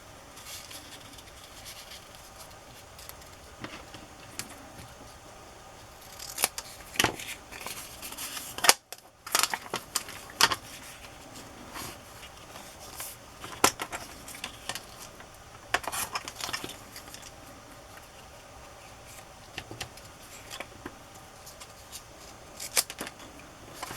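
Scissors trim a small craft embellishment made from vintage supplies, with intermittent close snips and crisp clicks scattered across the stretch amid soft handling rustle, fairly quiet, no speech.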